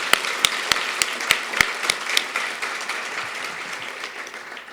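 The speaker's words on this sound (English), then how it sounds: "let's give her a round of applause." Audience applause at an award ceremony starts with a run of sharp, distinct claps before blending into a steady, moderately close wash of clapping that slowly fades.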